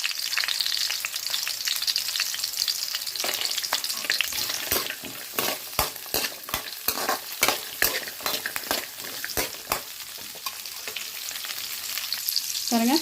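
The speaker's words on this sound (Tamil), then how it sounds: "பாருங்கள், நம்ம வெங்காயமும் முந்திரியும் நல்லா வதங்கிட்டுருக்கு." Onions and cashews frying and being stirred in a pan, a steady close sizzle with a run of sharp scrapes and taps from a spoon against the pan in the middle, and no voices.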